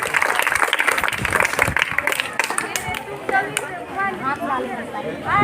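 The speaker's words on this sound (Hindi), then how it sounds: "तालियां हो जाए।" A school audience at a government girls' middle school in Madhepura claps through a dense, sustained round of applause, with crowd chatter and voices mixed in and a voice rising near the end.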